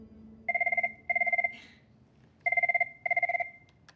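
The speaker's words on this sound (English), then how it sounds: "The phone rings," An office telephone rings with two pairs of rapid electronic trilling bursts, clear and fairly close, with a short pause between the pairs and no talk over it.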